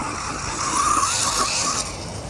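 An MJX Hyper Go H14BM 1/14-scale brushless RC car racing at speed: a loud, close, continuous high-pitched electric motor whine with tyre scrub, swelling briefly and easing off, with no voices.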